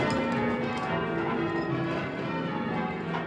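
English church bells rung by a team of bell ringers, many bells overlapping in a dense, resonant peal with steady rhythmic strikes, close and fairly loud, with no voices.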